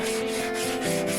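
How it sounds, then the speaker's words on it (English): Close, steady hand sanding of a Masonite panel edge, a continuous raspy scratching with a faint rhythmic back-and-forth pulse. "here it's just cleaning up the edge with a little hand sanding"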